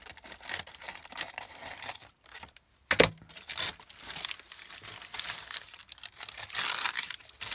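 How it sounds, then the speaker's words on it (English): Sheets of tissue paper cut with scissors for a handmade paper journal, heard as a close, steady run of crisp crinkling and rustling snips, with one sharp louder crackle partway through and no speech. "Cutting another piece of the tissue paper."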